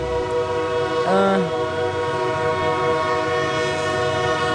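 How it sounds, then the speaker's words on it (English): A train rolls past close by with a continuous heavy rumble, and a single loud horn blast sounds early on before the passing noise carries on steadily. "I think we should wait for the train to go by."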